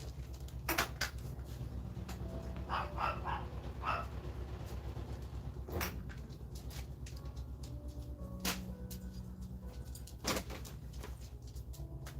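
A dog indoors lets out a few sharp, separate barks spread across the stretch, each one brief and moderately close, over a steady low background hum with no talking.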